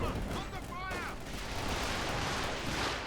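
A Kettenwerfer rocket artillery strike in the strategy game Company of Heroes 2 lands as a dense barrage of explosions and rattling fire. Whistling rockets are heard early, followed by sustained rumbling blasts.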